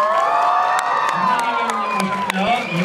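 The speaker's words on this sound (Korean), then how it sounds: "박수 부탁드릴게요." A cinema audience at a film stage greeting in a Lotte Cinema hall cheers and claps, with excited high-pitched shouts and whoops rising above sustained applause and crowd noise.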